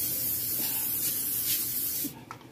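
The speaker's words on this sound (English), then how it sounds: "I'm going to go ahead and spray it with some extra virgin olive oil." Extra virgin olive oil sprays onto vegetables in a continuous close hiss lasting about two seconds, then stops abruptly, leaving a few faint clicks.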